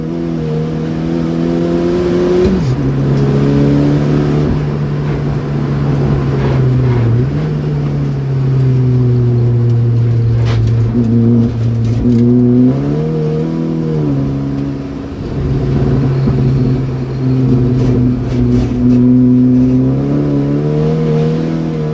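A Saab 9-5 Aero track car is driven hard on a track day at Llandow, its engine droning loudly and steadily from close by, with repeated rises and dips in revs through gear changes.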